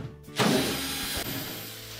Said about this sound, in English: we'll remove the four screws that secure that blower housing cover to the actual blower